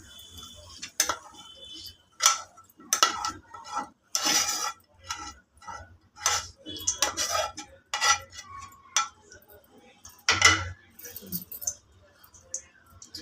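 Bobbatlu ingredients mixed in a pot, with sharp clinks and scrapes of a utensil against metal coming in irregular bursts separated by quiet gaps.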